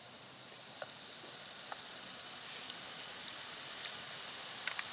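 Aluminum fizzes and sizzles as it dissolves in a chemical bath inside a spill-catching tray, a steady hiss of crackling bubbles with a few faint ticks and pops scattered through it.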